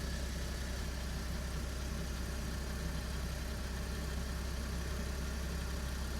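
VW car engine running steadily at idle, a faint, even low hum with a fine regular pulse that goes on unchanged throughout.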